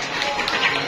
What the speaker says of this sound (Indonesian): Tepuk tangan kepada teman-teman kalian di Rizka Abdullah.